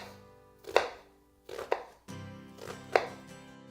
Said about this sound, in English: cut a few slices horizontally, a few slices down through the top.